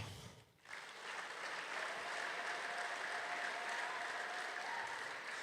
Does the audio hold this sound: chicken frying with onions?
no